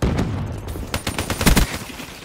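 Rapid bursts of automatic gunfire in Black Ops 3 multiplayer, loud and close, with shots clustering into a dense volley toward the end and no talk over it.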